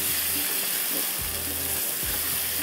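Onions and spices frying in a pan, a steady broad sizzle heard close with a few low stirring scrapes and thuds, no speech.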